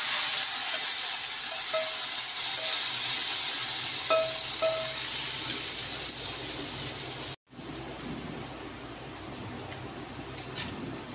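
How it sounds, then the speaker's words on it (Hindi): Loud, steady sizzling and crackling of hot oil frying browned onions for a tempering fills the clip, briefly cutting out before resuming a little softer. "और अब ये तड़का लगने लगा"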